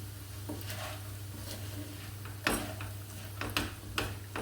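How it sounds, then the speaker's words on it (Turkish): A spoon stirs rice pilaf in a pot after salt and black pepper go in, giving soft irregular scrapes and taps with a few sharper clicks near the end over a low steady hum. "Pilavımı biraz karıştırıyorum."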